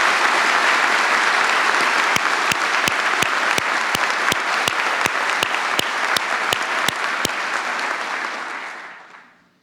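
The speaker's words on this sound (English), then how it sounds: "let's give a round of applause to all of them and thank them" A large audience at an NYPD swearing-in ceremony breaks into sustained loud applause, a dense roar of clapping with rhythmic sharp claps running through it, fading away near the end.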